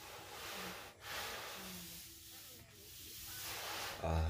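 Sandpaper of 320 grit rubs across a car quarter panel on a police-package Tahoe, giving a steady, close scraping hiss in continuous strokes with a brief pause near the start.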